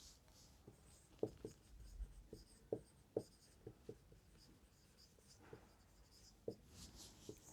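Chalk or marker taps and scratches on a board as math is written out, a sparse, irregular series of short clicks and strokes, faint and close against a quiet room.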